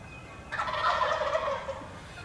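A single rolling gobble from a wild turkey roosted in a tree in Nebraska erupts nearby, loud and rapid, fading out after about a second with quiet woods around it.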